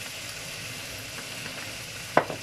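Pinakbet vegetables fry in a pan with a soft steady sizzle, and a few sharp scrapes of stirring near the end, close and fairly quiet.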